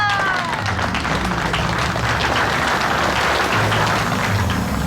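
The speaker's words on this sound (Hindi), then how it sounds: "तालियां!" Applause from a small gathering at a family engagement night, a steady wash of clapping over underlying music that carries on evenly for several seconds.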